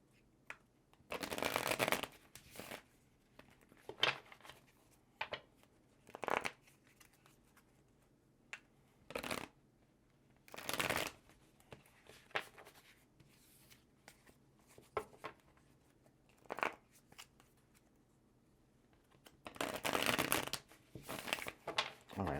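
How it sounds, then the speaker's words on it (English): Tarot cards are shuffled by hand in a quiet room, with repeated short riffling and flapping bursts spaced out by pauses, some of the bursts longer and louder than others. "let's just get one more good shuffle here for Virgo"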